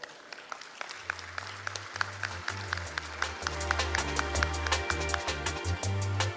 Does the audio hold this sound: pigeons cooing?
no